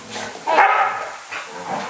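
Dogs at home barking and whining excitedly, a few close, loud yelps and whimpers in quick succession with no talk over them.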